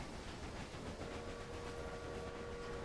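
A steam-era train idles at a supply stop in the Railway Empire video game, heard as a quiet, steady rumble with a soft hiss, with no talking.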